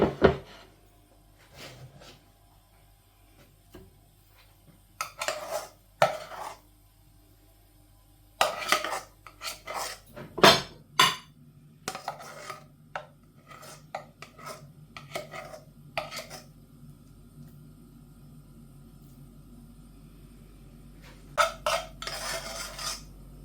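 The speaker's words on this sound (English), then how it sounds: "I've just drained the broccoli. We're ready to dish the veg out." Drained broccoli and other vegetables are dished out with pots and cutlery, giving scattered close clinks, clatters and scraping against metal and dishes over a quiet kitchen hum, with no talking.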